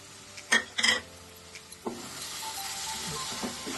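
Fish added to a pan of fried spices and green chillies for a spicy fish curry, giving a few clattering stirs and scrapes over a low, steady sizzle close by.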